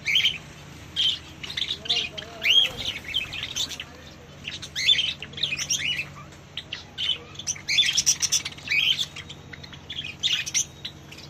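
Caged birds in a bird shop, a busy mix of chirps, tweets and squawks in repeated bursts, fairly close, with faint voices in the background.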